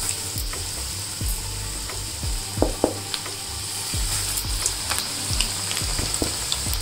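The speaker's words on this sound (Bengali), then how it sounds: "এবারে চিকেন উইংসগুলো ভেজে নেব।" Battered chicken wings frying in very hot oil, a steady close sizzle and crackle with occasional bubbling pops, no talking.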